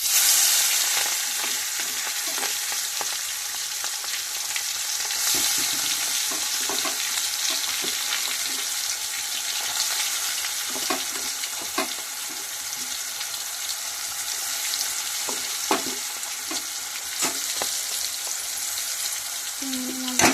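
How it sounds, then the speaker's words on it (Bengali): Marinated prawns frying in oil for a prawn curry, a steady close sizzle with occasional stirring clinks and scrapes over about twenty seconds. "এরপরে ম্যারিনেট করা চিংড়ি মাছগুলো তেলের মধ্যে দিয়ে দেবো"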